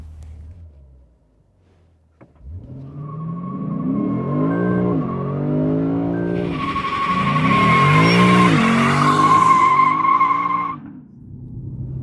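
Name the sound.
Lexus RC F doing a burnout, tires skidding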